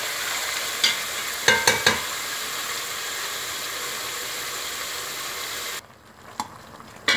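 Pepper and onions fry in a pan with a steady sizzle and hiss, broken by a few sharp clinks of a utensil against the pan and a brief drop in the sizzle near the end.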